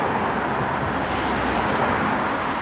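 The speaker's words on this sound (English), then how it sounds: "Let me just let these cars go by." Steady roar of cars passing along a street during a dog walk, a continuous broadband wash of tyre and engine noise with no voices.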